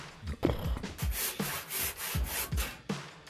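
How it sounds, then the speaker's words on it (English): Handsaw cutting through a log to slice off wooden cookies, steady back-and-forth rasping strokes at a brisk even rhythm, close and fairly loud with no voices. "trying to split a log into cookies with a handsaw"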